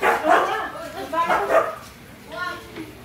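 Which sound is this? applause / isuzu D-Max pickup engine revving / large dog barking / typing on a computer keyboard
large dog barking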